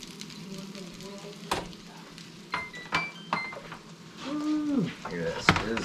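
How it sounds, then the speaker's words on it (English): Spoonbill fish frying in a hot pan gives off a soft sizzle with scattered clinks and scrapes of stirring and utensils, while a person talks over it. "Ooh, look at that sizzling."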